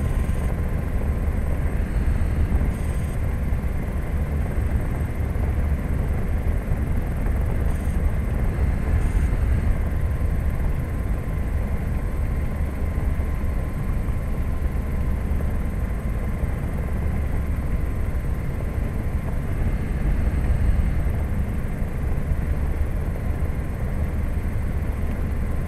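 An experimental turbine helicopter flies at sunset, heard as a steady, loud, unbroken turbine roar and rotor drone from inside the cabin for the whole stretch, with no talk.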